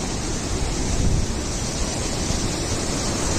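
A mountain river rushes over stones below a bridge on the trail from Lukla to Namche Bazar in Nepal, a steady, loud broadband roar of water with no voices, close and continuous.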